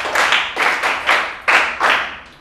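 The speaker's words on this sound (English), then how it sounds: "A round of applause for her." Classroom clapping during a school lesson, a small group beating out a rhythmic pattern of sharp, close claps in about six quick bursts, with no talking over it.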